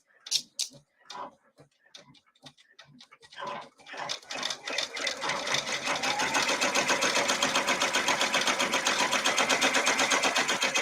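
An embroidery machine stitching a sketch font design starts with scattered ticks and short runs, then settles into a steady, rapid, close mechanical chatter of stitching that continues to the end.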